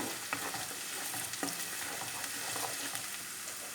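Carrots sauté in a pan for peas cooked in olive oil, a soft steady sizzle broken by repeated utensil scrapes and light clicks as they are stirred, fairly quiet and close, with no talk.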